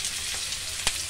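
Onion and green chilli hit hot oil with mustard seeds and cumin, making a steady bright hiss with a single soft clink, brief and close, with no voices.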